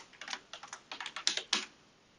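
A password is typed on a computer keyboard, a short run of a dozen or so light, even keystrokes close by, then quiet.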